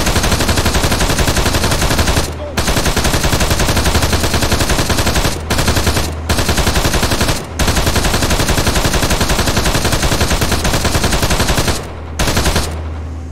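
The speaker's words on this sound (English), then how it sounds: "Contact! Sniper! Machine gun, 75 meters right." Sustained machine gun fire near a destroyed Russian camp south of Kherson: loud, dense continuous bursts close by, broken only by a few brief pauses.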